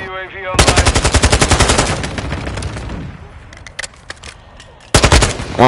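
In Modern Warfare, a loud, close burst of rapid automatic gunfire rattles for about two seconds and fades into scattered shots, then another sharp burst follows. A voice speaks briefly.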